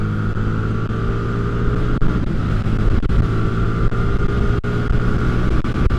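A 2022 Hyosung GV300S motorcycle pulls hard on a dual carriageway, its engine droning loud and steady with a constant rumbling tone and brief dips where the gears change.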